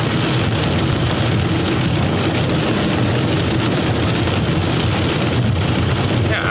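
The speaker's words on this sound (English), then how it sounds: "It's about to get heavier rain for sure." Heavy rain drums on a storm chasing vehicle in a constant, dense, loud wash of noise with a low rumble underneath and no break throughout, and no voices.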